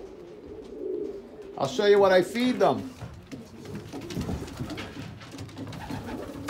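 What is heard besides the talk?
breeding pigeons cooing in a loft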